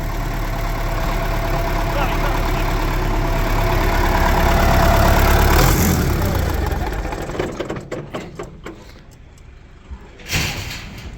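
An MTZ 80 tractor diesel runs loudly and steadily after starting, its low rumble filling the first half. It then turns choppier, broken by clatters and a thump, with some talk mixed in.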